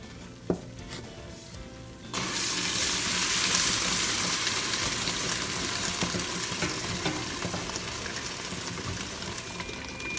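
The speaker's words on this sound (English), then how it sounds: "So we're gonna start adding our beef stock in here." Beef stock pours into a simmering beef stew, setting off a sudden loud wash of hissing sizzle after a quiet start, then holding as a steady bubbling roar.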